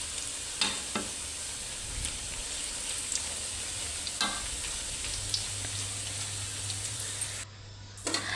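Peanut crackers (peyek) frying in a wok of hot oil, a steady bright sizzle and crackle with occasional sharper pops and utensil scrapes, continuous and close, no talking.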